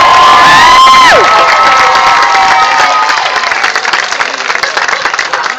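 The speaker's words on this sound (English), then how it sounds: "Another round of applause for the Raging Grannies of Portland." A crowd at an outdoor protest rally in Portland cheers loudly with high whoops and shouts, and applause builds underneath before the cheering fades into scattered clapping.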